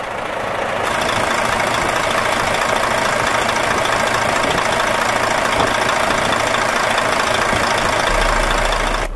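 A heavy Volvo D13 diesel truck engine, 335 horsepower, in a 2008 Volvo VNM64200, idles steadily, a loud continuous low rumble with a constant knocking texture throughout.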